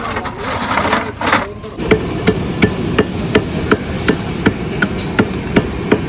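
Pistachios and green cardamom being pounded in a kitchen preparing a langar of milk and pakoras: a steady run of sharp, evenly spaced thuds close by after a brief muffled start, with a low rumble behind.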